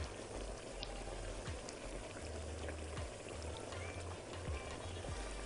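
Tomato sauce for a chickpea and fried eggplant moussaka simmers in a pan, giving a soft continuous bubbling and popping with scattered small clicks, steady and close, with no one speaking.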